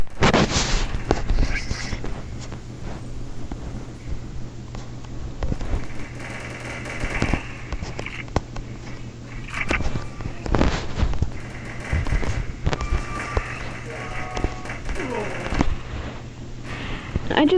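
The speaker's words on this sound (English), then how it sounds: "I just call it the Flaming Assault Rifle, just so you know." Flaming Assault Rifle fire in the mobile shooter Respawnables, with repeated sharp shots and bursts over a continuous game background hum, and a voice talking now and then.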